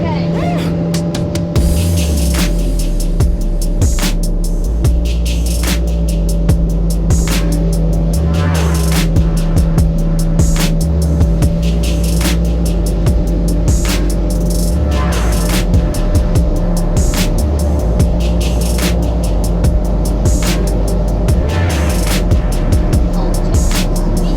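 A 100 horsepower Suzuki outboard drives a Nividic 550 RIB across flat calm sea, a loud steady engine drone with wind buffeting throughout and a person talking over it.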